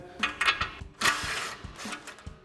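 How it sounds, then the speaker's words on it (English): An impact wrench with a 21 mm socket working the tie rod on a Ford F-150 front suspension during a leveling kit install, giving several short, rattling hammering bursts close by with brief pauses between them. "pop our tie rod out, again using our 21 mil socket on our impact"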